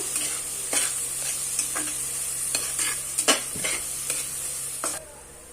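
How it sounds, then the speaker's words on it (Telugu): Onions frying in a pan sizzle steadily while a spoon scrapes and stirs them in several sharp strokes, close up, with the sizzle dropping away at the very end. "ఇప్పుడు ఈ ఉల్లిపాయల్ని మనం కొంచెం కలర్ వచ్చేంత వరకు ఫ్రై చేసుకున్నాము"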